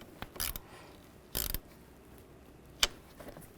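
Three short ratchet bursts snug down a battery terminal on a 1998-2010 Volkswagen Beetle, quick clicking runs separated by pauses, close and fairly quiet.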